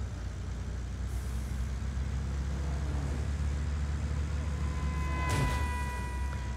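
An off-road truck rolls along in Just Cause 4, its low engine drone continuous and near, broken late by a short sharp hiss and a thin tonal whine.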